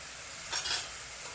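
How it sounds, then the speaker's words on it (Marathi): Ground green masala paste sizzles in hot oil as it is stirred in a pan, a short soft scraping swish with a brief burst of frying hiss, close and quiet, no talking. "वाटण चांगलं आता तेल सुटेपर्यंत आपण भाजून घेऊ"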